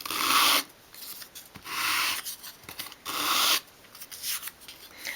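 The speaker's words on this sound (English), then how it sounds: "just sweep it across the sandpaper in one direction" A small wooden piece for a 1/12 scale dolls' house sink unit is swept across sandpaper in four distinct raspy strokes, each about half a second, separated by short pauses, close and clear with no talking.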